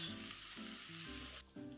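Shredded cabbage and other vegetables frying in a pan, a close, steady sizzle broken by rhythmic bursts of stirring, with a brief drop in the hiss near the end.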